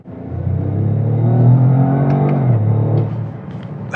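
A 2025 Toyota GR Corolla with the 8-speed automatic revs hard while holding one gear in manual mode, the engine note climbing steadily, then easing off with a few short clicks toward the end, close and loud.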